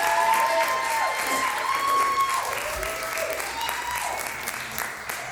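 A jazz concert audience at Sunset Parlor applauds a singer as she arrives, a dense, steady clatter of clapping that stays loud throughout and softens slightly toward the end, with some voices mixed in.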